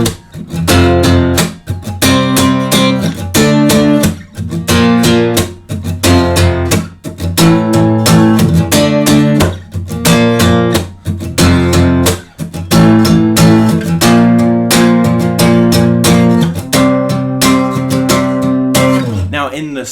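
Electric guitar power chords play the bridge of a song, loud driving strums in steady rhythm with brief pauses between phrases, with no voices.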